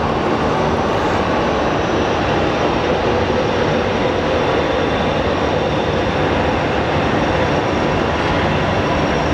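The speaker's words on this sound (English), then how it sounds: "The 767 is Boeing's most durable airframe, I think." A Boeing 767 airliner at Sky Harbor airport, a loud, steady engine roar that fills the whole stretch with no voices over it.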